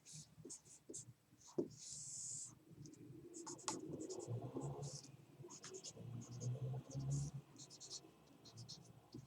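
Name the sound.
writing on a board during a lecture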